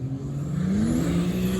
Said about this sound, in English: Daryl spins the tires